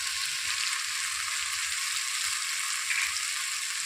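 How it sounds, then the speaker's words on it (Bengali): Spices sizzle steadily in hot oil for a lote fish curry, a continuous bright frying hiss with no talk over it. "সমস্ত মশলা দিয়ে একটু কষিয়ে নেব"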